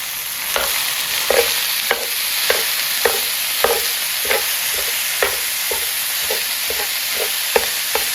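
Ground beef fries in a casserole pan with a continuous close sizzle, and a spoon scrapes and taps against the pan in a regular rhythm about every half second. No voices are heard.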